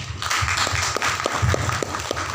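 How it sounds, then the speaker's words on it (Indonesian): Audience applause at a Banten provincial social services office event, steady rhythmic clapping from a moderate crowd, loud and close throughout. "Kita tepuk tangan bersama"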